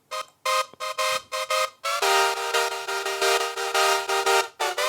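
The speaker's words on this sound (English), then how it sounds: "if I took the attack and release down, it would sound super choppy" Bright synth chords chopped into short rhythmic pulses by sidechain compression, ducking in and out, then swelling into sustained pumping stretches with sudden gaps.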